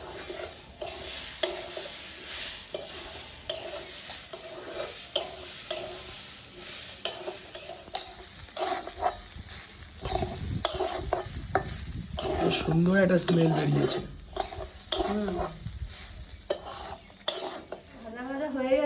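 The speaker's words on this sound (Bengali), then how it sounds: "চালটাকে আমি একটু সময় ভেজে নেব।" Broken rice frying in a pan with salt and turmeric, stirred in steady scraping strokes with a soft sizzle underneath, growing busier and louder toward the end; a voice speaks briefly.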